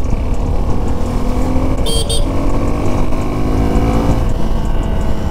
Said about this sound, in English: I can hear the exhaust note very loud